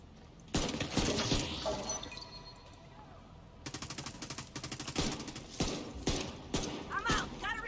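Bursts of rapid gunfire from a shooter video game, The Division 2: Warlords of New York, with dense automatic volleys and sharp impacts, some glassy shattering, loud and close, separated by brief lulls.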